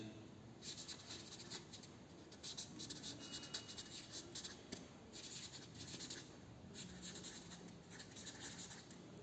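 Chalk or marker scratching across a board during a class 10 electricity lecture, repeated short strokes in uneven bursts over a steady room hiss, faint and somewhat distant.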